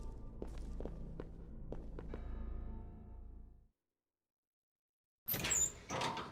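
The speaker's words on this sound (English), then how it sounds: "The door sound effects are really good." Footsteps echo through a room in Resident Evil Zero HD, and after a short silence a door in the game opens with a brief heavy clunk and creak at close range.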